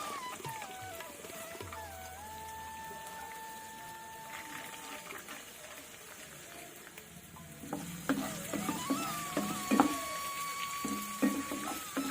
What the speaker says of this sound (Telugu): ఆవాలు, జీలకర్ర వేసుకుందాం. పచ్చెనపప్పు వేసుకుందాం.